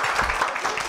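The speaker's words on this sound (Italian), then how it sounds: "applauso." Applause from a studio audience at an Italian televised fairy-tale show for children, a dense steady patter of clapping that fills the whole short moment without a break.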